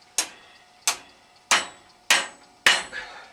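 Five sharp hammer strikes on metal during gate fabrication, evenly spaced at roughly half-second intervals, each a crisp close impact with a short ringing decay.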